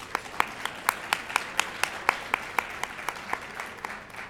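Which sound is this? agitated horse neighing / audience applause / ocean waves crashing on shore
audience applause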